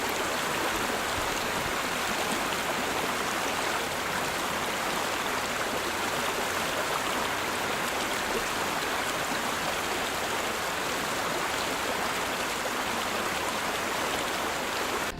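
Pocono Creek flows in a steady, even rush of water, continuous and fairly close, with no voices.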